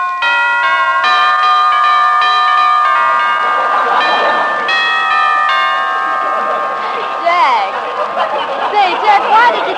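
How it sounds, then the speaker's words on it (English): Loud ringing tones of a bell at a wartime radio variety show, sustained chimes with a shimmering ring that fades into audience laughter and chatter toward the end. "I'll ring Roy's bell"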